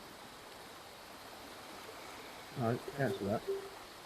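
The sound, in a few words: rushing stream water in VR fishing video game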